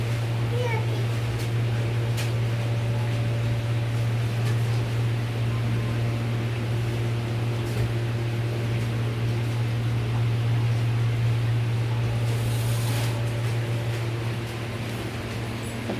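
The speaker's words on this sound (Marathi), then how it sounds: "त्यासाठी कूलर आणलाय" A household air cooler runs with a steady, loud motor hum and fan whoosh in a hot village home, and someone talks over it throughout.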